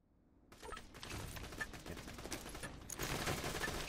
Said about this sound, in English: I can hear the fire rate of that pistol